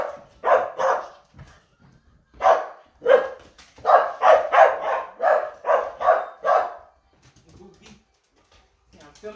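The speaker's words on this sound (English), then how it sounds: "that's my dog. She's barking." A dog barks indoors in a series of sharp, close, loud barks, two short bursts early followed by a rapid run of barks, then trailing off into faint quieter noises.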